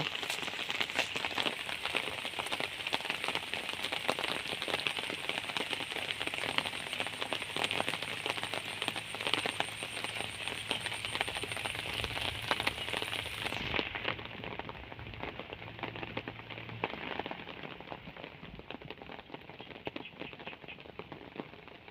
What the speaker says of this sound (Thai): ฝนก็ตกลิ้นลิ้น